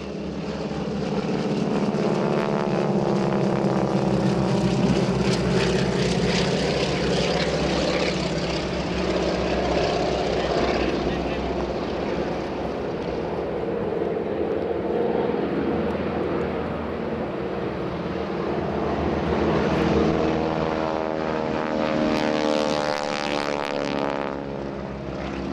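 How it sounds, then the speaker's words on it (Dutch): Boeing Stearman biplanes, 1930s trainers refitted with more powerful engines, drone steadily overhead during a wingwalking display at the Ursel Avia 2016 airshow. The loud, continuous propeller-engine roar swells and fades slightly as the aircraft pass. "Hun toestellen zijn Boeing Stearman trainingsvliegtuigen uit de jaren 30"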